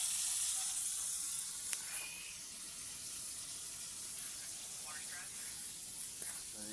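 Steady frying sizzle from a pan as vegetables go in—mushroom, squash, okra, Malabar spinach, eggplant and long beans—with a broad hiss throughout and a few faint clinks and splashes.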